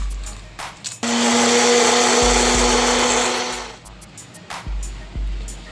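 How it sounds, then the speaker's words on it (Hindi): An electric grinder coarsely grinding whole red chilies, a loud continuous whirring burst of about three seconds between quieter handling noises, with no talk. "तो इस तरह से हम इसमें डाल लेंगे और इसको भी ग्राइंड करेंगे।"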